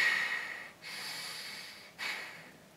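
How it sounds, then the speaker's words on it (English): A person breathes shallowly from the chest, neck and shoulders rather than the diaphragm, with two airy, close breaths that each swell quickly and then taper off. No one speaks. "they're breathing from the chest and the neck and the shoulders rather than the diaphragm"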